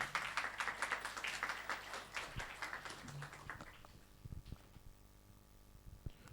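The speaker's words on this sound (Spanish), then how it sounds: "Les voy a pedir un fuerte aplauso para recibir a Edgar Calderón" Audience applause welcoming a speaker to the stage at a talk, dense clapping for about three seconds that thins out to a few scattered claps.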